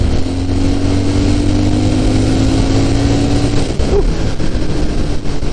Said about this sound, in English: So yeah, God, this is a very good engine.